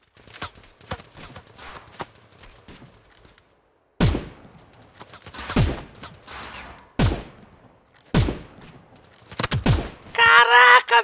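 Sharp gunshots in the video game Battle Prime crack in bursts, several single shots spaced apart, loud and close, with a brief electronic burst at the end.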